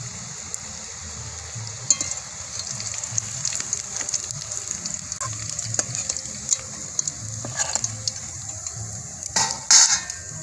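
Puffed-rice langcha frying in hot oil, a steady soft sizzle with intermittent clinks and scrapes of a utensil stirring and lifting the pieces, close and alone with no talk.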